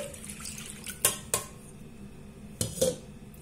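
Milk is poured into a saucepan at a kitchen counter while making a no-bake orange cake, with a few sharp clinks of metal cookware over a low liquid wash and no talking.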